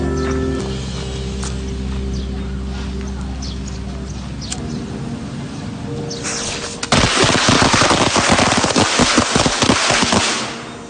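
A string of firecrackers is lit and bursts into a rapid, loud crackle of sharp bangs for several seconds after a quieter stretch of background sound and voices.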